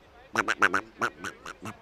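A rapid burst of duck quacks used as a sound effect during a T10 cricket broadcast, about eight nasal calls in quick irregular succession, loud and close.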